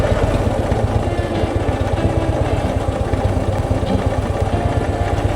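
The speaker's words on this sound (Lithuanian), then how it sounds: "Dabar atgal su motociklu." A Harley-Davidson motorcycle engine on a ride in Northern Cyprus in the rain, running close and loud with a steady, throbbing rumble and no pauses.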